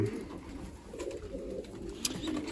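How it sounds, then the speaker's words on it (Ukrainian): A young pigeon squab coos softly in a loft, a few low murmuring calls close by, with a brief sharp click near the end and no voices. "чудове голубенятко"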